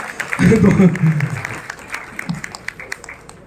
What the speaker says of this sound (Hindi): दीप शैलजा के लिए भी एक बार जोरदार तालियां दोनों के लिए हो जाए